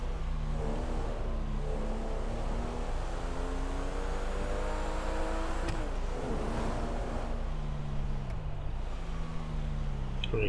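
A car engine in the video game GTA 5 drones steadily and loud, its pitch rising and falling as the car speeds up and slows, with no talking.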